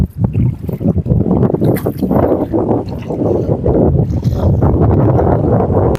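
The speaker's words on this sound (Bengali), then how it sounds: "আর এখন আমরা আছি একটু মাঝ নদীতে, এখানে কিন্তু ঢেউ আছে, ভালো পরিমাণে ঢেউ" A boat crossing choppy waves mid-river on the Buriganga, with loud continuous wind buffeting and churning water noise close by.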